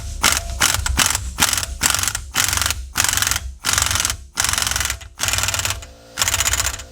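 An impact driver or air gun seats a car wheel onto its hub assembly in about a dozen loud, close, rattling hammering bursts with short pauses between them.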